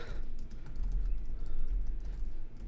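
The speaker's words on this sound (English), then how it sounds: "I'm gonna start by typing in the first 2 months" Rapid typing on a computer keyboard while entering month values into an Excel spreadsheet, a continuous flurry of soft key clicks over a low background hum.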